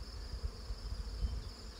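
Honeybees buzz steadily around hive boxes, a faint continuous hum with a few louder low thumps, heard on its own without talk.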